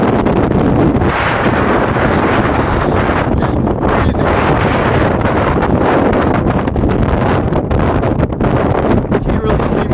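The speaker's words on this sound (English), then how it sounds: "I want to show you guys just how brutal this wind can be." Strong, brutal wind roars and buffets the microphone on an exposed mountain ridge during a long hike, loud and continuous throughout.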